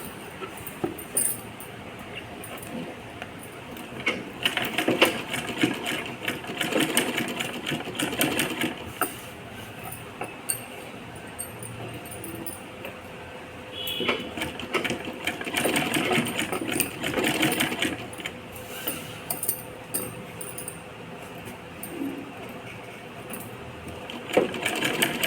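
Rapid mechanical chatter of a sewing machine stitching a long skirt, running in bursts with brief pauses between runs, close and fairly loud.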